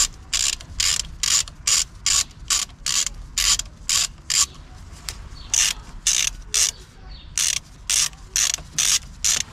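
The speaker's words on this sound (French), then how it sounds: "on va prendre un embout de 10 pour dévisser le négatif" A 10 mm socket wrench ratchets in quick, evenly spaced bursts of close, crisp clicking while loosening the negative battery terminal bolt on a Renault Clio 4, with brief pauses between strokes and no talk.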